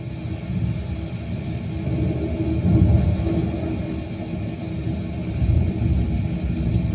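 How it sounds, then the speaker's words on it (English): Simulated thunder in a man cave: a continuous low, heavy rumble swelling and easing over several seconds, loud and close, with no voices. "you can see that there's thunder and lightning going on"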